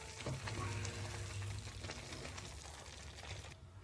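Halwa with cashew nuts being stirred in a pan, a steady close scraping and sizzling texture running continuously with soft rhythmic strokes, cutting off near the end.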